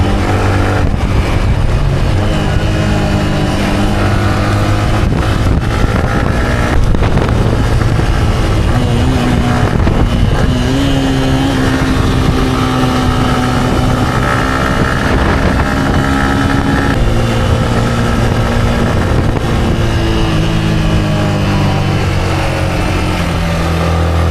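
A motorcycle with new tires is ridden at speed, its engine droning loud and close with rising and falling pitch as it accelerates, layered over heavy wind rush for the whole ride.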